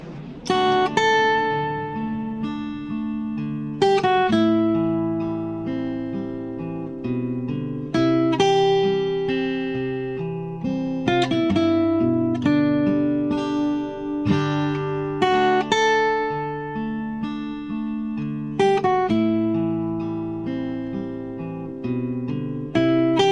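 Strummed acoustic guitar chords ring out in a steady rhythm, each fresh strum sharp and bright before decaying, with the chords changing every few seconds.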